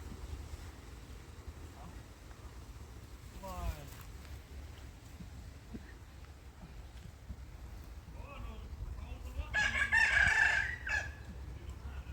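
Chickens and a rooster in a rural coop, with a crow and scattered clucks rising briefly near the end over steady outdoor wind noise, mid-distance and moderately loud.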